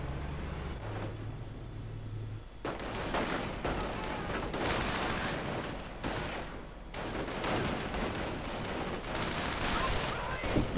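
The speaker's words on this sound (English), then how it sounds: "Stu 42 and Stug firing." StuG and Stu 42 assault guns firing in a World War II strategy video game: a rumbling engine gives way to repeated heavy booming blasts and dense explosive crackle, loud and continuous.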